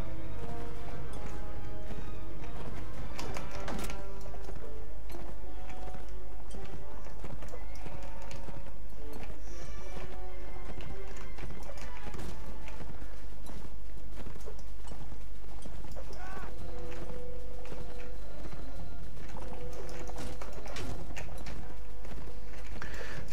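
Horse hooves clip-clop through a Mount and Blade Warband battle scene, a steady rhythmic clatter running under continuous game music for the whole stretch.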